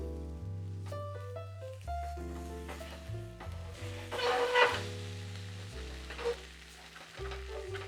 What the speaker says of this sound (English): You have to make sure that the pan is quite hot before you put the egg into the pan